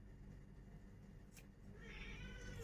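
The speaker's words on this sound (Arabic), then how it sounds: "القطط تحت المارين ينونو من ريحه الرنجه" Cats meow faintly beneath a window, excited by the smell of herring, their cries coming in and out over a low, steady indoor hum.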